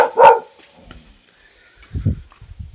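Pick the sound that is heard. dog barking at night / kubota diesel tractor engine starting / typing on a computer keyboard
dog barking at night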